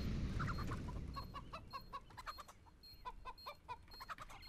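Chickens cluck in the video game CS:GO, a run of short staccato clucks repeating in an uneven rhythm over a low rumbling background, moderately loud and with no talk over them.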